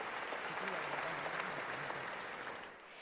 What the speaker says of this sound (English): A big round of applause for all our dignitaries